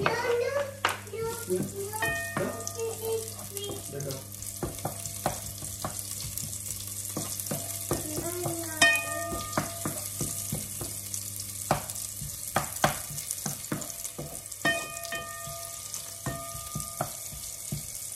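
Shallots and garlic fry in hot oil with a steady sizzling crackle, punctuated by sharp clinks and scrapes of stirring, while a voice and other faint voices chatter in the background.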